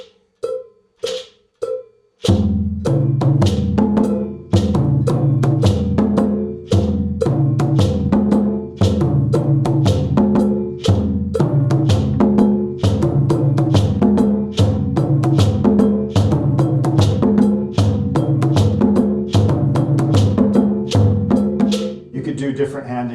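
A ballet-style pattern played on a big drum, opening with a few isolated strikes before settling into a loud, close, continuous rolling rhythm of evenly spaced hits.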